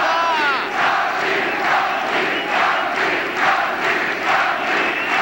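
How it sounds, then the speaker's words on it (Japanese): Swiss home crowd at a 1997 K-1 kickboxing fight night in Switzerland, chanting and cheering for Andy Hug; a loud, dense roar with a rhythmic chant swelling and falling in repeated pulses throughout. "スイスの母国の声援がアンディを変えました。"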